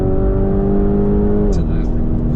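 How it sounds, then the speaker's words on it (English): A Lamborghini Urus engine drones beneath the cabin in a steady low hum, then its pitch drops partway through as the revs ease off, heard up close from inside. "you can just hear the engine directly underneath you"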